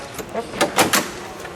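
Door of a 1969 Ford Mustang Mach 1 being worked, a few close clunks and latching knocks in quick succession in a quiet space.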